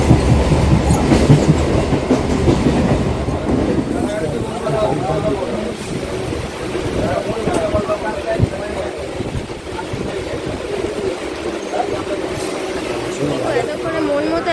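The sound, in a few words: train passing on railway line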